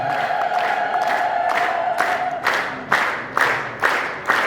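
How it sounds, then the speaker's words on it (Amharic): A crowd at an Ethiopian Orthodox church ceremony ululates in celebration. A sustained high trill gives way to repeated loud bursts of ululation and cheering, roughly one each second, with a dense crowd close by. "እልል እልል እልል ይባላል።"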